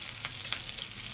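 Battered bread pakora frying in hot oil: a steady, close, crackling sizzle with small pops throughout and no talking.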